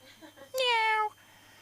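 A single drawn-out meow, about half a second long, rises out of quiet murmuring; it sounds like a person imitating a cat rather than a real cat.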